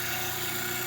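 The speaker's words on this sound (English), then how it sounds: "I'm going to knock off the corners on the disc sander" A disc sander grinds the corners off a cross-cut wooden pen blank, a steady, loud, even whir holding constant throughout with no pauses and no talking.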